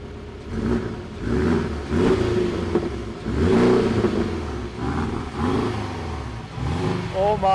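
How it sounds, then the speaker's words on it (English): A Porsche Cayman 718 with a 3-liter engine revs several times while parked, each throttle blip swelling and falling back over a few seconds, fairly close, with voices chatting underneath. "can you just rev the engine a bit?"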